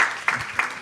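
Brief audience applause at a business panel, a short burst of clapping with a couple of distinct sharper claps standing out over the mixed hand noise.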